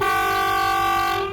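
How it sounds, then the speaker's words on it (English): Sri Lankan train pulling into Ella station, its horn sounding as a loud, sustained multi-tone blast that holds steady throughout, close and dominant with no talk. "The train that just pulled up that you see below is not one of the long-range trains that go to Colombo."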